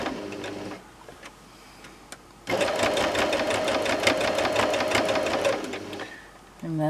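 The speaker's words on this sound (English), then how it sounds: "Couple of stitches just to lock your thread off and right around the edge." A sewing machine stitches fabric right around the edge, first a few quiet locking stitches, then a loud, steady, rapid run of several seconds before stopping; a voice speaks before the run.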